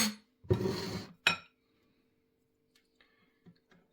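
Soda and flour mixture tipped into kefir in a bowl and stirred with a spoon, giving two short bursts of clinking and scraping, then a few faint, scattered taps and clinks.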